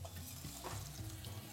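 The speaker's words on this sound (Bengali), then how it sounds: "এবার এই একই পদ্ধতিতে আমি বাকি আলুগুলোও ভেজে নিচ্ছি।" Potatoes frying in a pan for a vegetarian paneer and potato curry, giving a steady, soft sizzle with faint stirring throughout, close and continuous, with no talking.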